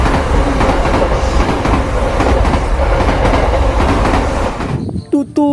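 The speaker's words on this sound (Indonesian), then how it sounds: "ada lokomotif kereta api" A toy train locomotive plays a loud, steady rumbling train sound with a clickety-clack rhythm, then cuts off near the end, followed by a brief higher tone.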